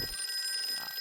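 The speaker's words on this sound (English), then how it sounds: "Oh, it's the phone." A phone rings inside an otome visual-novel game, a steady electronic ringtone held throughout, clear and close with nothing else around it.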